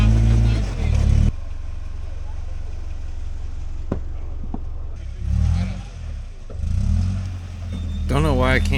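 Car engine revving in bursts while the rear tires spin for a warm-up, eased off gently to avoid wheel hop; a loud, steady drone with swells, and a person talks over it near the end.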